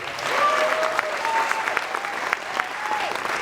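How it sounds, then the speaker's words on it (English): Audience at a talent show claps steadily throughout, a dense, sustained patter of many hands with a few whistles or cheers sliding over it. "Let's just do a nice round of applause for Mike and Tim."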